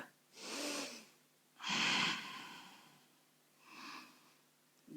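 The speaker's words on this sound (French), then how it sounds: "on peut essayer de faire 5 respirations, voire 6" Three deep, forceful breaths are drawn and released through the nose while someone holds a yoga plank pose, each a rushing nasal hiss about a second long, close and quiet, separated by brief pauses.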